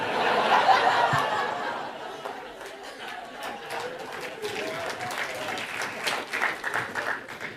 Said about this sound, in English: Now you see, you're clapping and you shouldn't really.